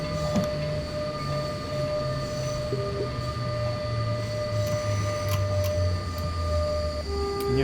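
A freight train hauling coal rolls along the rails in the SimRail simulator, a steady rumbling drone with sustained tonal hums and occasional clicks and squeaks from the wheels, heard from the cab with no talking.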